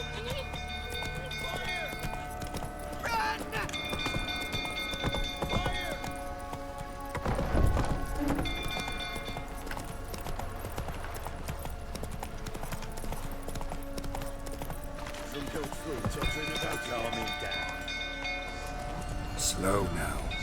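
Hooves of Geralt's horse Roach clip-clopping in The Witcher 3 video game, a steady rhythmic trot at close range beneath music and spoken dialogue.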